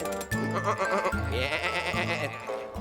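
Sheep bleat repeatedly, wavering and nasal, in a children's cartoon, over a steady musical backing that plays throughout.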